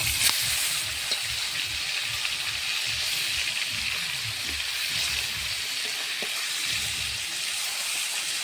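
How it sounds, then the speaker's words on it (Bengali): Small hilsa fish sizzle in mustard oil after being turned over, an even, rain-like frying hiss that carries on steadily with a few soft pops and a brief knock near the start. "মাছটা, এখন উল্টিয়ে দেবো। এক সাইডে ভাজা হয়ে গেছে।"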